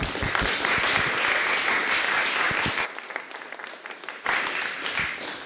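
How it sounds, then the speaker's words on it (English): An audience claps for the artist panel at a Native American art exhibition talk in the Leonor R. Fuller Gallery, a full burst of applause that thins briefly midway, then swells again before fading. "we can give a round of applause to our panel"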